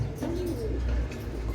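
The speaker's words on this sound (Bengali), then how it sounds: "চমৎকার একটা মাক্সি গড়া নর, একবার কোয়ালিটিটা দেন, একবার কম সাপ চোখের কবুতর, একটা সাদা ঠোঁটের কবুতর" Pigeons at a breeding farm give a short, low coo close by, over a loud, rumbling background of wind and handling noise.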